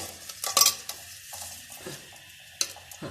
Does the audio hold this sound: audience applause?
no